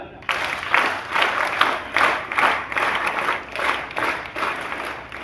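A crowd at a school inauguration ceremony at an inter college in Gorakhpur claps in a sustained round of applause that swells and dips in waves, loud and close.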